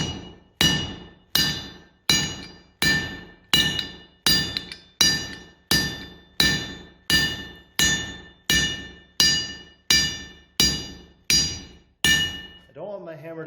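Regular ringing hammer blows on hot metal at a blacksmith's forge, about fifteen evenly spaced clanging strikes, each decaying before the next, loud and close, with a short voice at the end.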